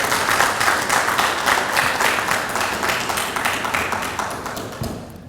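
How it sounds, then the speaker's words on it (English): Applause fills a firefighter recruit academy graduation ceremony as an award winner comes forward, steady dense clapping from an indoor crowd that fades toward the end. "Y'all can clap for her if you want to."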